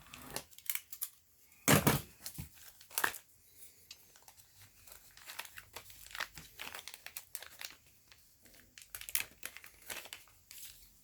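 Crinkling and tearing of a plastic package holding Stihl 036/MS360 chainsaw oiler tube parts, with a hard plastic tube, brass end and spring, in bursts of close crumpling with a few sharp rips and no talk.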